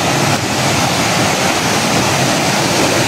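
Waterfall at a forest falls pouring steadily in a loud, continuous broadband rush, close by and alone with no voices.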